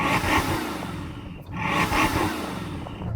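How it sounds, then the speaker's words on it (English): A Bugatti Chiron Super Sport's 8-litre quad-turbo 16-cylinder engine revs twice in short surges with a brief dip between, moderately loud and fairly close, with no talking. "So I'm going to rev up this 8-litre quad turbo 16-cylinder engine."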